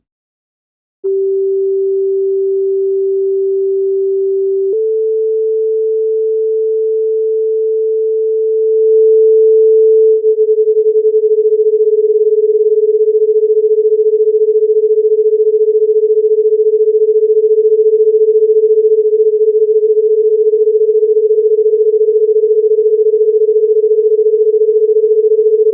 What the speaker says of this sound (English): I'm now going to start to activate some of these other sine wave oscillators